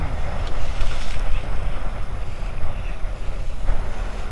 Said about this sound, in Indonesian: gelombang lumayan teman-teman